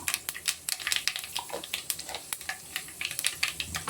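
Mustard seeds and fenugreek sizzling in hot oil for a fish curry, a quiet close crackle of rapid irregular pops and spits over a soft hiss, no talking.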